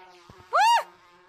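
Insect-like buzzing from the bee swarm chasing a player in the VR game Gorilla Tag, a single loud, rising-and-falling whine lasting about a quarter second, standing out over a quiet background.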